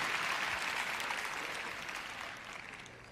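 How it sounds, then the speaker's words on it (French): A sermon congregation gives soft, limp applause, a steady wash of distant clapping that fades slightly toward the end. "Vous voyez quand vous applaudissez ces applaudissements mous."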